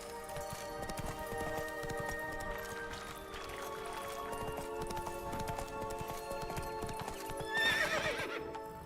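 A horse gallops in the video game Witcher 3 Blood and Wine, its hooves drumming a steady rapid rhythm under game music, with a loud whinny near the end.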